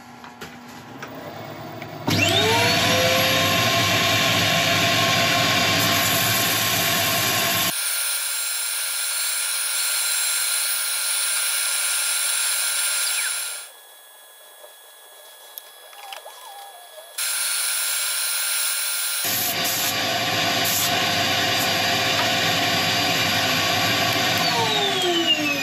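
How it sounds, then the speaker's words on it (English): Olive ash bowl being sanded on a wood lathe: a loud, steady machine whir runs, drops to a quieter drone for several seconds, then returns at full strength until the end. "Okay, I'll get set up for sanding."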